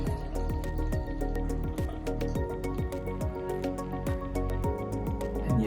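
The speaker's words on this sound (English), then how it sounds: "You just take your water and you just pour" Water is poured into a container for a craft project, a continuous liquid stream with quick repeated gurgling drips, close and steady throughout.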